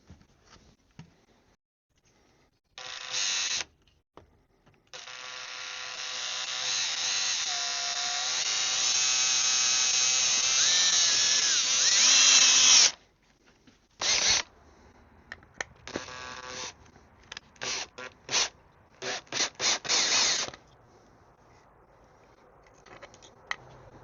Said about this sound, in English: I'm going to drill a hole in the strongest part of the skull